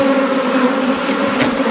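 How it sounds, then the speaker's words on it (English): Bees hum steadily around an open beehive during a hive inspection, a dense, continuous buzz close to the microphone with no voices over it. "Fair volume of bees there though"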